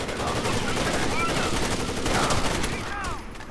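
Heavy machine gun fire in the shooter Rainbow Six Vegas 2, a dense sustained clatter of rapid shots running through the whole stretch at steady loudness, with game noise layered in.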